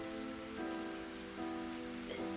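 Steady rain hisses evenly in the video game Memories Off, a soft constant wash with a gentle musical tone sustained beneath it and no voices.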